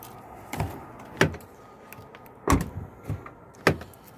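Key working the lock of a work truck's door, several sharp metallic clicks and rattles spaced irregularly over a quiet background.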